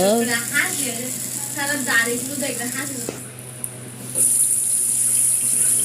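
Running tap water splashes steadily as hilsa fish heads are rinsed in a sink, a continuous close hiss that briefly dips and then surges louder, while someone talks over it.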